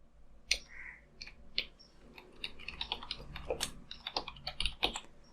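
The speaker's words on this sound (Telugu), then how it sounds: "సో నేను నేమ్ అయితే టైప్ చేస్తున్నాను" Quiet, irregular keystrokes as a name is typed on a computer keyboard into an MS Word resume, with close clicks in short bursts and small gaps between them.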